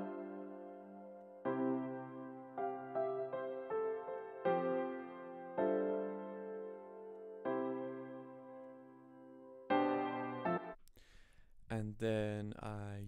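Sustained keyboard chords change every second or two in a slow progression, clear and mellow, ending with a brief burst of noisier sound.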